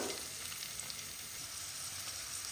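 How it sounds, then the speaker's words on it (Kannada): Vegetables for veg hakka noodles fry in oil over a high flame, making a dense, continuous sizzling hiss at an even level, close by with no talk. "ಇದನ್ನು ಆಯಿಲಲ್ಲಿ ನೀವು ಸ್ವಲ್ಪ ಹೊತ್ತು ಹೈ ಫ್ಲೇಮಲ್ಲೇ ಫ್ರೈ ಮಾಡಬೇಕು"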